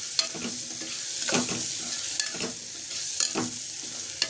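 A pan of spiced guar bean and potato curry being stirred, with a soft sizzle underneath and repeated scraping strokes of the spoon roughly once a second. Quiet and close, with no talk.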